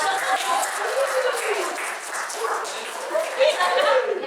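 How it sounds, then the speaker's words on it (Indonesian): A group at a discussion session in Bandung breaks into applause, a steady rustling clatter of many hands held at fairly loud level, with voices talking over it. "Tepuk tangan dong."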